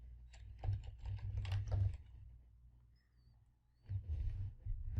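Typing on a computer keyboard to enter an IP address into Notepad, heard as close, quick bursts of clicky keystrokes in two runs separated by a brief pause, with no voices.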